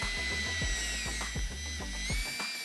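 Power drill with a 9/64 drill bit boring pilot holes while a Minn Kota Instinct QUEST trolling motor mount is installed, heard as a quiet, steady high motor whine broken by repeated short low bursts as the bit bites into the material.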